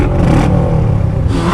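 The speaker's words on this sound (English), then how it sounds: "this is an inline 4-cylinder engine. It's a sports bike engine." A loud, close inline four-cylinder sports motorcycle engine revs briefly with a rising mechanical roar and some clatter, lasting just over a second.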